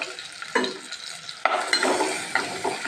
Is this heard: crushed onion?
yes